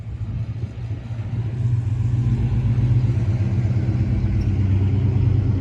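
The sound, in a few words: truck driving, engine revving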